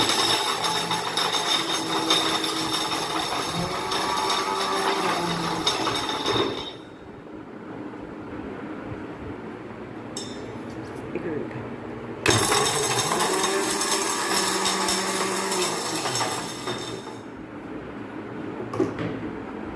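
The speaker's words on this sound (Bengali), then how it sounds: "প্রথমে আমন্ডগুলোকে গুঁড়ো করে নিই।" Almonds being ground to powder in an electric grinder, two loud whirring bursts of several seconds each, separated by a quieter pause with faint clatter.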